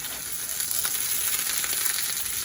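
Loud, steady sizzle of pain perdu frying in a pan as the slices are flipped, a dense continuous hiss with faint scrapes close by.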